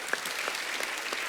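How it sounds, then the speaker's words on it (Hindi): Studio audience at a Kapil comedy show breaks into a brief, dense burst of clapping, a steady wash of many hands at moderate loudness. "दिव्या जी की कंपनी और दिव्या जी के लिए जोरदार ताली"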